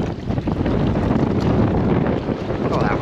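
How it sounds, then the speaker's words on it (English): Strong wind buffets the open deck of a sole-fishing boat on Southampton Water off England's south coast, a loud, steady broadband roar with gusty surges and no voices. "Oh, that wind's getting up."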